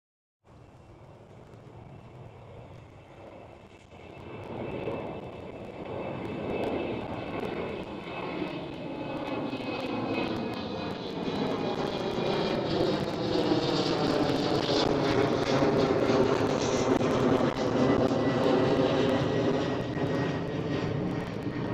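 Airliner near the runway at Amsterdam Schiphol Airport, a distant jet roar that swells steadily over twenty seconds into a loud, sustained rumble with a sweeping whine as the aircraft passes, no voices.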